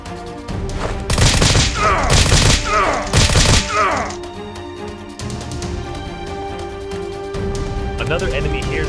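Gunshot sound effects in a Nerf gun action film: three loud bursts of gunfire in quick succession, followed by quieter clatter, with a narrating voice.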